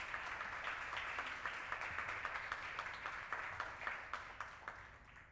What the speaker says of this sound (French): Je veux demander de l'applaudir, s'il vous plaît.